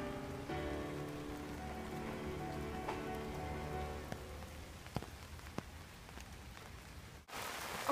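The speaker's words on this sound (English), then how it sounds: "it's raining a lot harder" Heavy rain pours steadily on an outdoor street in Japan, a dense continuous hiss with occasional louder drops striking nearby surfaces, before a brief dropout near the end.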